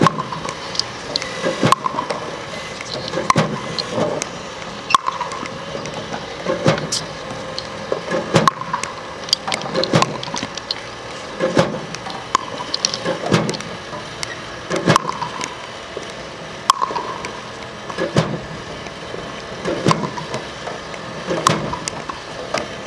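A Simon2 ball machine launches balls up an attached lob ramp in a steady repeating rhythm of sharp thumps and knocks, roughly one shot every second or so, close and clear with a mechanical hum beneath.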